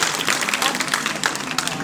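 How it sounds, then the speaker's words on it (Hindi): Children in a yoga and values class clap their hands together in a dense, steady burst of applause, loud and close, with some voices mixed in. "चलो सब बच्चे ताली बजाओ जरा।"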